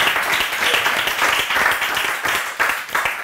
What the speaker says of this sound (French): On peut quand même s'applaudir parce que.